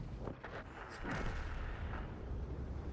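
Deep, booming artillery blasts from a video game roll out in quick succession, heavy and rumbling, with a sustained low roar between them.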